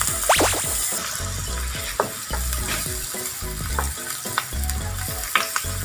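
Onions stir-fried in butter for Japanese curry rice, a continuous close sizzle with rhythmic utensil scrapes and taps against the pan, loud and steady throughout, with no talking.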